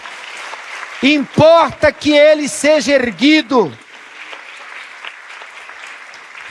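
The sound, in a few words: congregation applause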